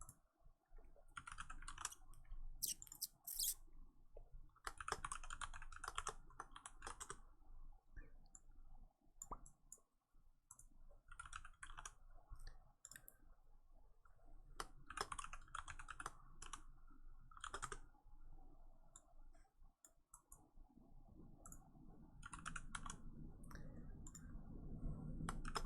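Bursts of rapid typing on a computer keyboard, with clustered key clicks broken by short pauses, close and clear over a low background rumble.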